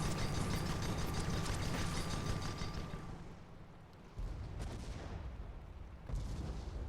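Hwacha rocket volley from a gun-armed airship in the Guns of Icarus skirmish match, a dense roaring barrage of rapid blasts that fades out, then sharp heavy booms follow at intervals.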